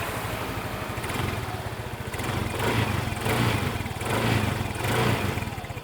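A Yamaha Mio i125 scooter engine, freshly restarted after a starter carbon brush and battery replacement, revs up and down in several close, loud pulses over a steady idling putter.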